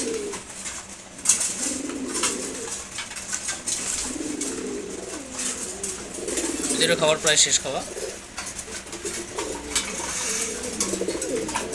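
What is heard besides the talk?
Giribaz pigeons cooing while eating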